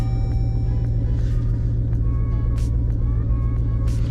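A Redeye Jeep Grand Cherokee Trackhawk supercharged V8 idles steadily after start-up, a loud, close, even rumble with a faint whine and a few light clicks over it, no talking.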